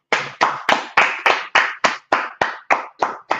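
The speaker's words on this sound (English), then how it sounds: "Let's clap it up." About a dozen evenly spaced, sharp claps in steady unison rhythm, close and crisp, no talking, at a Wednesday night scripture gathering.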